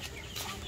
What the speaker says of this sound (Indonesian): Dah duk hambat ayam, tengok ni.